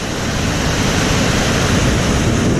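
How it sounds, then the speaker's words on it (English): The River Avon in flood rushes over a weir on a snowy day, a loud, dense, unbroken roar of churning water filling the whole clip with steady intensity, with no talking. "look at that, it's a raging torrent"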